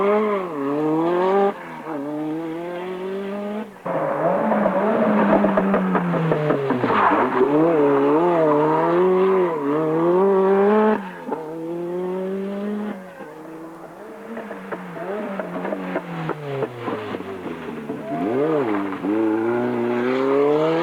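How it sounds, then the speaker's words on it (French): Renault 5 Turbo rally cars racing through tight asphalt hairpin bends, engines revving hard and rising and falling in pitch through gear changes, with tires squealing, loud and continuous. "Les Renault 5 Turbo font admirer leur inégalable maniabilité et se jouent des"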